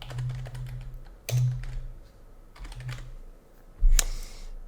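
Close, distinct keystrokes on a computer keyboard while creating a user account in TrueNAS Scale 24.10, in three short bursts separated by pauses, ending with a louder key press, no speech.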